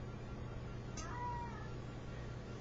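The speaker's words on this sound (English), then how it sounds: "But my cat is freaking out right now." An agitated domestic cat gives one drawn-out meow partway through, faint against a steady low hum of background noise.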